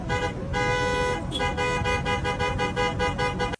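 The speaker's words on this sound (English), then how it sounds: "a line of people showed up that were all honking their horns in the drive-thru" Loud, steady, sustained car horns blare together for several seconds, pulsing slightly as they overlap, the sound of a line of honking vehicles in a Starbucks drive-thru.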